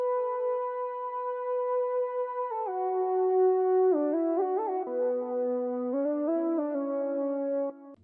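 A clean synthesizer lead from an Analog Lab sound bank plays a slow melody alone, gliding between sustained notes with a few quick ornamental flicks before fading out.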